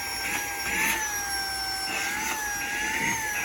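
A SAKER 3-in-1 vacuum cleaner runs continuously close by, a steady whining motor with a rising-and-falling pitch and a rushing airflow hiss, with no speech.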